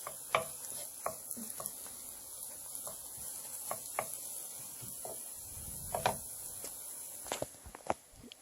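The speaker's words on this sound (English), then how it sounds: "And our crepe is cooking here," A buckwheat crepe cooks in a pan with a faint, steady sizzle, punctuated by scattered light clicks and taps of utensils and a brief scraping passage, all quiet and close.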